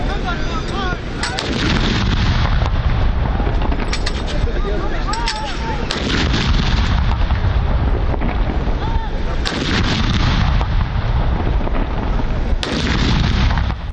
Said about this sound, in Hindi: दिन के आगाज पर तोपों की सलामी दी गई।